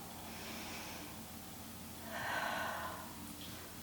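A single long breath out during a Pilates exercise, a soft breathy rush that swells midway through and then fades, close and quiet with no talking.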